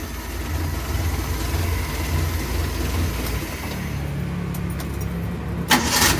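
A Suzuki Carry 1.0 engine idles steadily with a low, even rumble that runs throughout, then a brief sharp metallic clatter sounds near the end.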